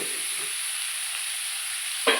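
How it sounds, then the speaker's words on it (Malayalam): Onions frying in a pan with a steady, close hiss throughout, faint stirring scrapes early on and a brief louder scrape at the end. "ഇളക്കി കൊടുക്കാം."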